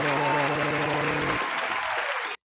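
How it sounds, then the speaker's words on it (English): A cheering crowd sound effect plays: dense applause and whoops at a steady level, then the cheering thins out and cuts off abruptly. "I've got cheering crowd."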